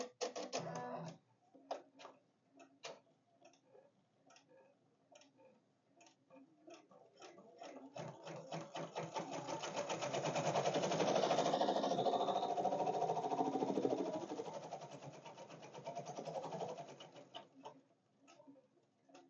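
An embroidery machine sews a placement stitch for a monogram on a tote bag. A steady run of close mechanical ticks swells into a louder whirring stitch in the middle, then tapers back to ticking.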